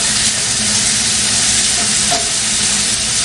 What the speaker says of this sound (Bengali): এই ভাজাটা না খুব লো ফ্লেমে রান্না করতে হবে